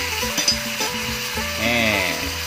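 Butter sizzles around beef steak in a hot pan, a steady close frying hiss with a few scraping stirs and a brief louder patch near the end.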